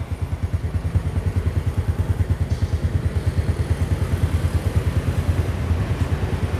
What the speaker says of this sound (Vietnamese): Này mọi người nghe tiếng máy nó nha.